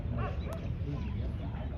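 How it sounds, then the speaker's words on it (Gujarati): A dog near a hillside temple in Gujarat yelps and whimpers as it runs after someone, faint and somewhat distant over low background rumble. "પેલું કૂતરું દોડાવે છે"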